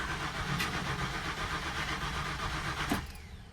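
A car engine cranks steadily for about three seconds with a rough mechanical churn, then stops without catching, apparently out of fuel. No one speaks.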